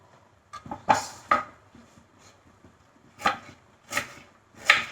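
A knife chops through bundled radish greens on a board, about half a dozen sharp, close thuds in irregular bursts with short quiet gaps between them.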